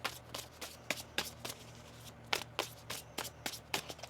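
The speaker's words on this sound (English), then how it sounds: "One more shuffle here." Tarot cards are shuffled by hand in a series of crisp riffling bursts and soft slaps, spaced irregularly over a quiet room hum, with no talking.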